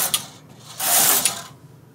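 A knitting machine carriage is pushed across the needle bed for two rows: a short mechanical clatter, a pause, then a longer rattling sweep with a click at each end.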